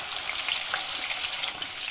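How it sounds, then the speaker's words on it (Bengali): Potatoes frying in hot mustard oil with a little turmeric in a pan give off a steady, dense crackling sizzle, close and continuous with no voices. "আলুগুলো এখানে আমি লাল লাল করে ভেজে নেব।"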